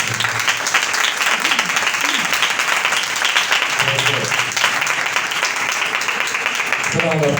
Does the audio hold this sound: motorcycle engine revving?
no